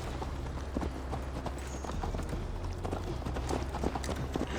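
Hooves clip-clop in a steady, quick rhythm as Eivor's horse runs in Assassin's Creed Valhalla, moderately close and continuous over low background ambience.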